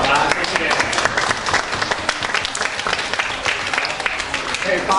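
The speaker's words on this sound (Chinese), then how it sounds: "是我们再给他们一个热烈的掌声好吗？" An audience at a Christmas gathering at a residential home applauds, with dense, steady clapping that fills the whole stretch, loud and close, while a voice speaks over it.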